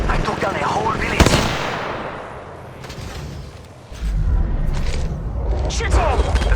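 Gunfire from the Apex Legends Mobile video game crackles in a loud opening burst with a booming report, then continues as fainter shots and rattling bursts under steady in-game sound, with voice lines heard throughout.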